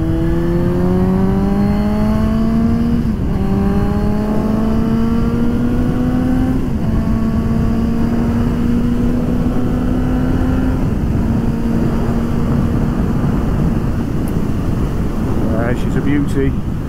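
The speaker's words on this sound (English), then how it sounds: "Sound of this bike, eh, with this blooming exhaust on, it's lovely." Suzuki GSX-S750 motorcycle fitted with an aftermarket exhaust, revving close up in repeated rising pulls, each climbing in pitch and then dropping back, loud and continuous over a steady engine drone.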